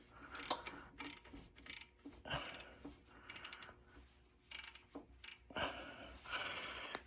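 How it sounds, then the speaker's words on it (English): A 10 mm socket and ratchet opens the oil drain on a John Deere lawn mower, with bursts of close ratchet clicking separated by short pauses, fairly quiet overall. "you'll put your 10 millimeter socket and ratchet on there,"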